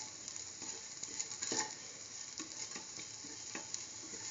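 Potato shreds for hash browns sizzle and crackle in a hot pan, a dense close frying hiss with light stirring scrapes and small pops throughout.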